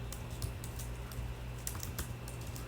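Keys on a computer keyboard clatter softly in an uneven run of light taps over a steady background hum, with no voices.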